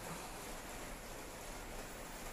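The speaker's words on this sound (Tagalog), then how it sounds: "Naririnig niyo yung ulan ngayon." Steady rain falls on a roof after a waterproofing spray treatment, a dense continuous hiss with no distinct drops or voices, even and unbroken throughout.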